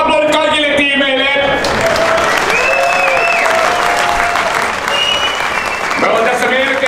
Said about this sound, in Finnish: isot aplodit kaikille tiimeille!